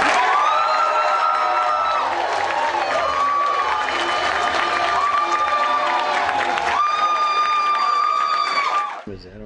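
A crowd at an election-night victory event for the Newport News mayor screams and cheers loudly and continuously, with shrill high-pitched shrieks riding over the roar before it cuts off abruptly.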